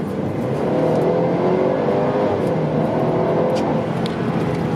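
Cabin of a 2019 Mercedes-Benz C300 AMG Line sedan, 255 horsepower, accelerating gently below 30 mph: a smooth, steady, subdued engine hum and road noise rising slightly, with no talk.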